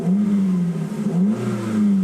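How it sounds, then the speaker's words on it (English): A 2003 Toyota Caldina GT-Four TRD N-Edition station wagon engine revs up and settles in a steady, close, moderately loud drone with a slight rise and fall, heard alone without talk. "I'll give you a little rev here to have a listen."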